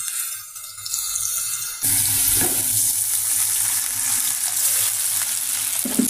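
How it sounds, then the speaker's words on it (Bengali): Onions and green chilies fry in a pan for a prawn dish, a steady broadband sizzle that jumps louder partway through as more goes in, with faint stirring scrapes near the mic. "পেঁয়াজটা ভাজা ভাজা করে নিচ্ছি"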